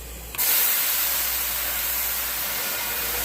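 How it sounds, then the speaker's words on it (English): Loud, close steam hiss that bursts on suddenly and holds as a broad, even rush of sustained hissing with no voices over it. "Do not stick your face in the steam."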